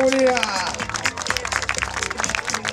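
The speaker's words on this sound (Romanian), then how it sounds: "Aplauze pentru Drag Racing Events România!" Applause from the crowd at a Drag Racing Events Romania drag racing event: brief, scattered clapping from a gathering under a loud announcer's voice over the sound system.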